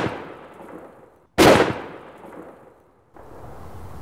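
A balloon packed with a larger explosive charge bursts in one sharp, loud blast that cuts through a quiet outdoor scene and fades over about a second and a half. Low background noise returns afterward.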